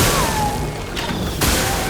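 A loud explosion attack in the video game Clair Obscur: Expedition 33, dense rumbling blast noise filling the moment with a sharp burst of impact near the end, no talking.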